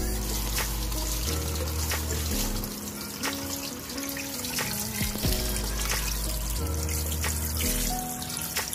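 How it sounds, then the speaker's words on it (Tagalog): Tap water runs steadily into a kitchen sink while milkfish and vegetables are rinsed underneath, with a constant splashing hiss, faint clatter and shifting low hum throughout. "hugasan ko naman yung fishy"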